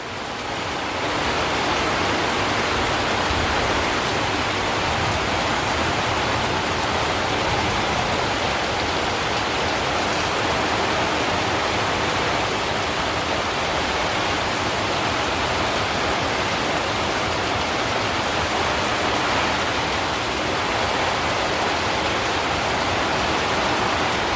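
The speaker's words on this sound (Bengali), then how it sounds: "এরকম বৃষ্টি এই মাসে হয় নাই" Torrential rain over a Bangladeshi village pours down in a loud, dense, unbroken roar that fades in briefly at the start and then holds steady for a long stretch, close and unaccompanied by voices.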